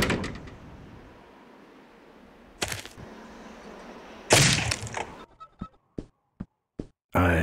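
A door in the animated series Full Throttle gets worked open and shut, with a loud scrape and slam followed by several short, sharp knocks and clicks, with no one talking.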